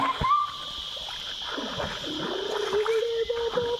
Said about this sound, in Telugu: చాలా ఆనందంగా ఈత కొడుతున్నాడు ఎంజాయ్ చేస్తున్నాడు